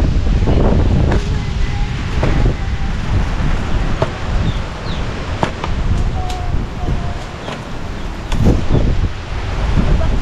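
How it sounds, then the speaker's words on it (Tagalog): Strong Amihan monsoon wind roars and buffets the microphone in heavy, continuous gusts, with a faint rustle underneath. "Grabe, lakas ng hangin."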